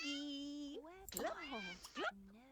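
A cat in The Sims 2 meows in long, drawn-out wailing cries with a few shorter rising mews between them, close and clear, with game ambience underneath and no talk.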